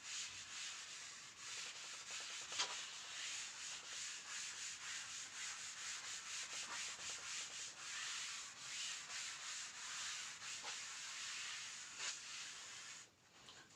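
An eraser rubbing writing off a classroom board in steady back-and-forth strokes, a soft dry scrubbing that carries on for several seconds, close and fairly quiet, with no talking.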